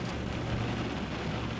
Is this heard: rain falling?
yes